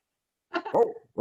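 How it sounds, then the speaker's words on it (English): A dog barks twice in quick succession, sharp yips at moderate distance, with one more bark starting just as the sound cuts off, and no talking. "I hear a dog barking."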